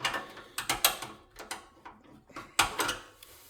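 A wrench clicks and ratchets in short, uneven bursts while turning a nut on a lawn mower's solenoid terminal, close and fairly quiet, with brief pauses between turns and no talk.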